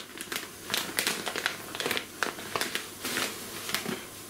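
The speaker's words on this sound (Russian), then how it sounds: "Пакет сделан очень удобно, он закрывается герметично, то есть можно насыпать угля и снова его закрыть." Crinkly plastic packaging from a resealable bag of birch activated charcoal being handled and squeezed, giving a close run of sharp, irregular crackles and rustles with no voices.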